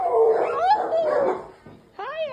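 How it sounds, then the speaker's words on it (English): Dogs housed in a cold-weather shelter give off whimpering, whining yips, clear and close, with brief pauses between cries and one last rising whine at the end. "that's not people in there; it's dogs"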